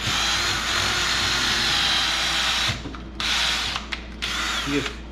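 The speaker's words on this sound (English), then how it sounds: "I'm just going to keep drilling. We'll drill another couple small holes here." A power drill drilling small holes in a Mopar C-body header whirs steadily at close range, cutting out briefly twice and restarting, with faint ratcheting mechanical noise.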